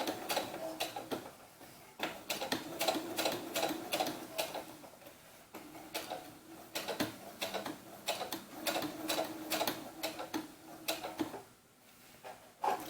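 A sewing machine top-stitches fabric for a doll's sunsuit, running in several short bursts of quick ticking stitches separated by brief pauses, close and fairly quiet.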